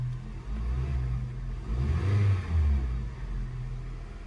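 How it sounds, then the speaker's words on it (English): A 2013 Honda Civic engine idles smoothly and quietly after a heat shield repair, with no rattle, its low steady hum swelling briefly as if lightly revved, close and continuous throughout. "So when I start the car now, there's no more rattle"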